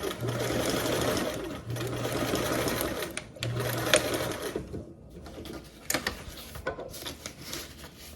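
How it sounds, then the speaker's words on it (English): Sewing machine running a short back tack stitch to reinforce a seam: steady close whirring bursts that stop and restart a few times, with brief pauses and light clicks between. "I like doing a little back tack stitch right there just to help reinforce it a little bit."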